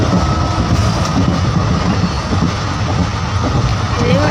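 Steady low rumble of a train running, with a continuous rolling roar and faint rhythmic clatter throughout.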